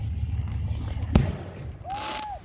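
Fireworks at a large display go off with one sharp, loud boom near the middle, followed by a whistling rising tone, over a steady background of crowd voices.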